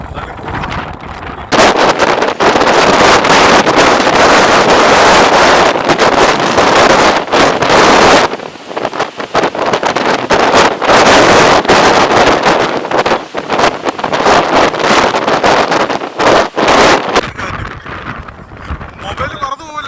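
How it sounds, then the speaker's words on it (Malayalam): Strong, gusty wind at the Kanyakumari seashore roars and buffets the microphone loudly and almost continuously, easing briefly midway before surging again. "എന്ത് ശക്തമായിട്ടുള്ള കാറ്റടിക്കുക കേട്ടോ"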